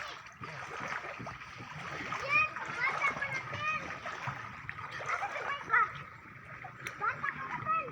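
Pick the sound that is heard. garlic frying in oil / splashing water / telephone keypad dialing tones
splashing water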